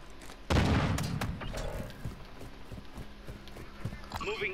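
Gunfire in the video game Call of Duty: Modern Warfare II, a loud burst of shots starting half a second in, then scattered sharper cracks and booms under radio chatter.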